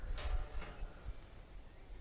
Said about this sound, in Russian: А ну, Викулечка, проверяй, как работают двери.